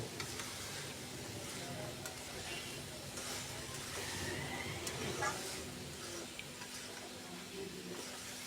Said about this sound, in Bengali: আপনার পাতাকপি কেটে রেখেছিল সে পাতাকপিগুলো দিয়ে দিবে